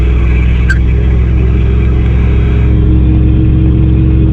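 A mini truck engine accelerating hard, heard from inside as a loud, steady mid-pitched drone with layered harmonics that holds constant throughout, with one brief faint click early on and no talking.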